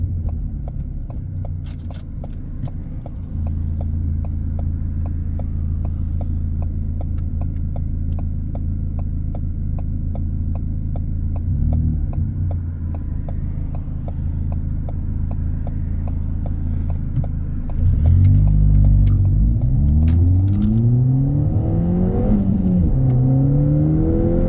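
A car driving along a main road, a steady engine hum and road rumble throughout, with the engine note rising and falling as it accelerates near the end.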